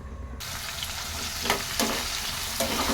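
Tempering spices frying in about four spoons of oil in a kadai, a dense, steady sizzle that starts abruptly and stays loud, with a few brief stirring scrapes on top.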